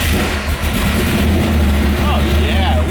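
Corvette engine turning over and catching into a steady rumbling idle, close and loud, with a voice speaking over it.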